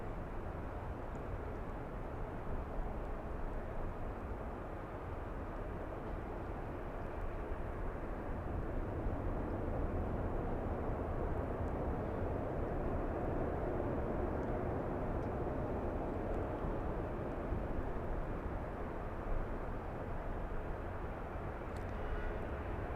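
An airliner passing at Los Angeles International Airport, a steady broad engine roar holding at moderate loudness throughout with no talk over it.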